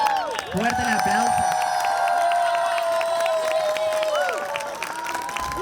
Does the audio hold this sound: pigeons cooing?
no